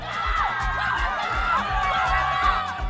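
Crowd of spectators lining the banks of the River Niger cheer athletes in a water sport race, a steady dense roar of voices and whoops held close and loud throughout.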